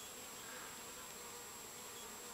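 A honey bee hums with a steady, continuous buzz near grass and water outdoors, faint and unbroken throughout with no voices.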